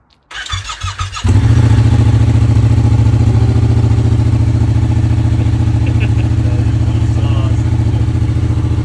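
A decat Yamaha MT-07 motorcycle with a full exhaust line and only a baffle cranks briefly, fires up and settles into a loud, steady, rumbling idle close by.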